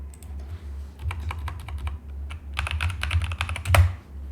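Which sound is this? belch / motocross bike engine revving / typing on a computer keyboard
typing on a computer keyboard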